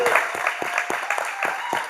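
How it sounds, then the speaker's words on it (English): Applause at an online business event, a rhythmic run of close, regular claps with a faint voice underneath, steady and moderately loud. "Let's give everyone a round of applause"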